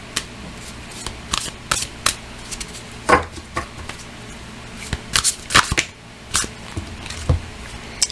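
Tarot cards being shuffled by hand, giving a series of close, crisp riffling and slapping bursts in an irregular rhythm over a faint low background hum, with no talking.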